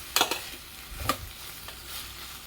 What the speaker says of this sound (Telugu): ఒక్కసారి కలుపుకుందాము. కలుపుతూ ఉంటే కింద అడుగంటకుండా బాగా ఫ్రై అవుతుంది.